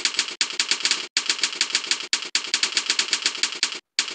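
Fast, dense keystroke clatter fills a timed typing test, rapid bursts of keys broken by short pauses, close and loud with no talking.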